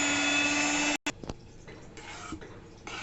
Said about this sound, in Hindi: ऐसा ब्लेंड करना है ताकि इसमें कोई लम्स ना रहे, बिल्कुल स्मूथ हो जाए।